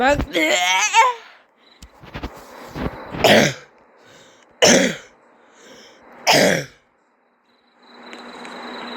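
A person coughs several times in separate harsh bursts, spaced a second or two apart, after a brief stretch of voice at the start.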